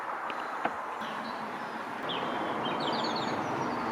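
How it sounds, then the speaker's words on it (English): Faint birdsong chirps drift over a steady outdoor background hiss in green woodland in Snowdonia, Wales, distant and intermittent. "So green, you can hear the birds."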